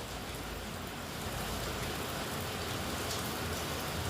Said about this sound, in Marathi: तर पावसाचा आवाज आहे